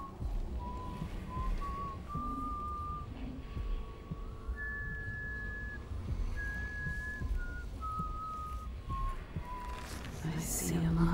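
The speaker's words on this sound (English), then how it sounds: "I hear people whistling." Someone whistles a slow, drawn-out tune in the video game Dishonored 2, thin and steady over a low rumbling game ambience, with a voice talking throughout.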